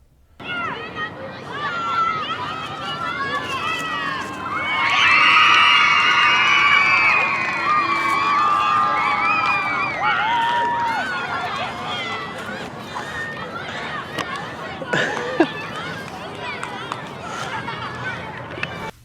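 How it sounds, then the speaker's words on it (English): Children shout and cheer excitedly at a disc golf course, a loud lively crowd of young voices rising and swelling mid-way, with a sharp whoop near the end. "The kids were cheering wildly as I was throwing my very mediocre distance shots."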